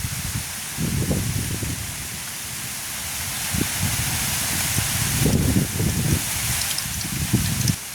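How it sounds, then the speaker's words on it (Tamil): Oil heating in a pan over a wood fire on a village hearth, giving a steady broad hiss and crackle with scattered louder pops throughout, with no talking. "உங்களுக்கு எண்ணெய் எல்லாம் கொதிச்சுடுது"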